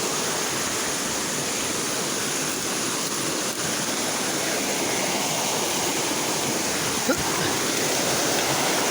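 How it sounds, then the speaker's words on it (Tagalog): Steady, dense rush of a waterfall and flowing stream of clear water in a wooded spot, a continuous broadband roar filling the whole stretch with a faint brief knock near the end. "Waterfalls."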